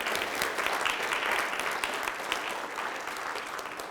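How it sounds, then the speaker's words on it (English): A big round of applause rises from a small audience at a New Year coffee and coaching session in Sauk Prairie, Wisconsin, dense clapping that starts full and gradually thins over a few seconds. "can we get a big round of applause for the camera real quick?"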